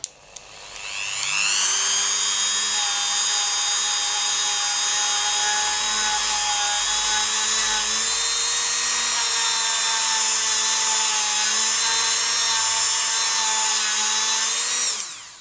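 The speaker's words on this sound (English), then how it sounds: "you can either buff it by hand or you can use a buffing wheel" A motorized buffing wheel polishes wax on handmade polymer clay pendants, spinning up quickly and holding a loud, steady high-pitched whine for about fourteen seconds with no talking, then winding down at the end.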